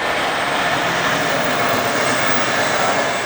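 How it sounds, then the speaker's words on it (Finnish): A train approaching on the line, a steady broad rumble and roar holding at constant loudness throughout, with no talk over it. "että tuolla tulee juna."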